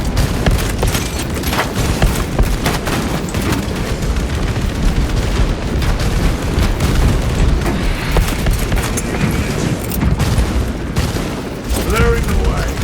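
Frag grenade blasts rip through a dense, continuous battle din in the video game Space Marine 2, on the Kadaku operation, with booms and rapid gunfire layered loudly throughout.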